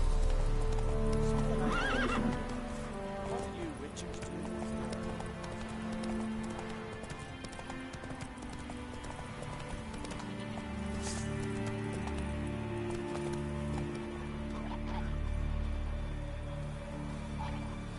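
Horse hooves clip-clop steadily at a gallop in The Witcher 3, with occasional neighs and whinnies over a continuous game soundscape, loud and close throughout.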